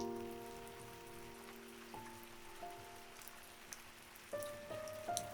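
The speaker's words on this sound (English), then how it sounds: "It's raining outside" Rain falls outside as a soft, steady patter on surfaces, faint and distant, while scattered tonal beeps and small clicks sound indoors.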